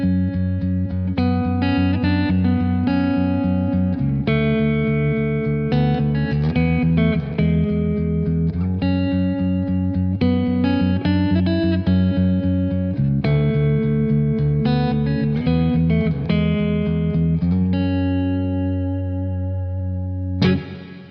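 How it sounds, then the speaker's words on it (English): Clean electric guitar part played through an amp and pedal board, soaked in a big, washy plate reverb, sustained chords ringing out and blending into long trailing tails, loud and continuous with no talking. "it's not spring reverb, it's more like a big washy plate reverb"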